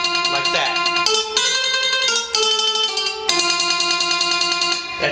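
Plucked mandolin-like notes from a Roland BK-5 backing keyboard play a short phrase of chords with quick repeated picking, bright and upfront.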